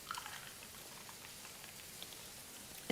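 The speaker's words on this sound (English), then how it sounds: "Soda water." Soda water fizzing in a glass while a fajita bowl meal is put together: a faint, steady crackle of tiny bursting bubbles, close and quiet, with no talk.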